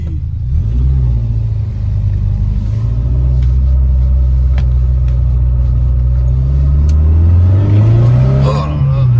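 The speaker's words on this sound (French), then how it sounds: "Ne vous inquiétez pas, le ralenti est très très bien." An old BMW 2002 Ti engine running at low revs with a deep, steady rumble, rising briefly near the end as it revs, loud and close.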